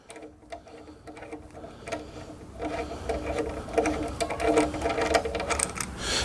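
Hand rivet tool squeezed to set a threaded rivet for a rail install, close rapid ratcheting clicks and mechanical ticks that grow denser and louder over several seconds.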